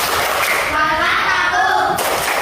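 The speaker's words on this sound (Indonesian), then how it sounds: "coba sekali lagi tepuk semangat" A group in an Indonesian school setting performs a 'tepuk semangat' spirit clap, rhythmic clapping mixed with chanting voices that run steadily throughout at a fairly loud level.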